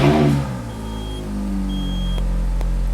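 A Ferrari 430 engine starting up after an oil change: a brief loud crank and catch, then a steady idle with a faint electronic beep tone running over it.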